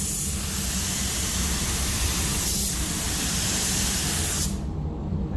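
A loud, continuous hiss of a paint spray gun applying base and clear coat on a 1960 Chevrolet Impala, close up and steady, cutting off abruptly near the end.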